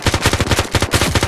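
Rapid automatic gunfire in the VR shooting video game Zero Caliber; a loud, close, evenly spaced burst of shots that continues with only a brief break, with no talking.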